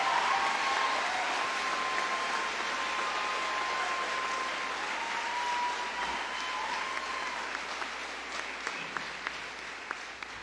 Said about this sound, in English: Please join me in a round of applause for all 14 of these well-deserved fine students.